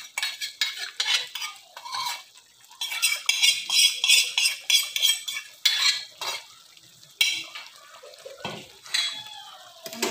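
Cashews fried in butter for a cashew curry are stirred in a pan, with rhythmic spoon scrapes and clinks over a soft sizzle, close and fairly loud in bursts.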